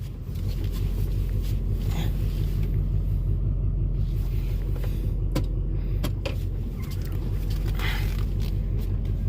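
Steady low rumble of a Duramax LBZ diesel pickup truck driving, heard from inside the cab, continuous and moderately loud with a few faint clicks and rattles.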